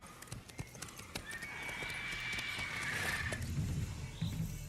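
Roach the horse galloping in Witcher 3, with rapid hoof clip-clops building under a rising whinny, then heavier hoofbeats near the end; no talking.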